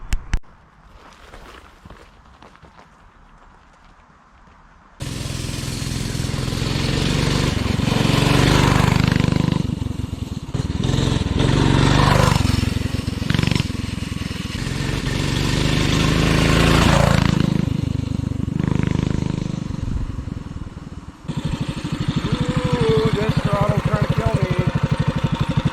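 An Arctic Cat Ramrod's engine on a test drive: after a few quiet seconds of small handling noises, a loud, close motor roars in and runs steadily, with throttle rises and dips and a brief drop near the end.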